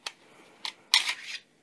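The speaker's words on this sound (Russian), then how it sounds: "Вынимаем рычажок затворной задержки" Small metal parts click and scrape as the slide stop lever is removed from an airsoft CZ Shadow 2 pistol, three or four sharp close clicks with a brief rattle between them.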